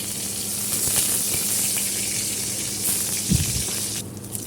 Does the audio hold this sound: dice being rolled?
no